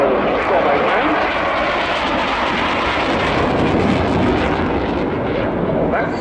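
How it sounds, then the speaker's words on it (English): A single-engine Saab Gripen fighter with a Volvo Aero RM12 turbofan flies at an airshow, a loud, dense, continuous jet roar that holds steady throughout. "It's a single-engine aircraft, the Griffin on Volvo Aero RM12 turbofan."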